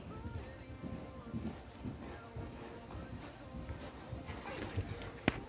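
Horse hooves clip-clop faintly and rhythmically while a rider works over cavalletti and a small cross-rail jump, steady footfalls in a quiet arena with soft voices in the background.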